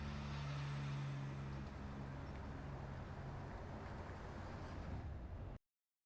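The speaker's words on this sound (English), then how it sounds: "Hey, truck coming down the road." A truck rolls along an outback road in the Gascoyne–Murchison region of Western Australia, a steady low engine drone and road rumble that holds, then cuts off abruptly.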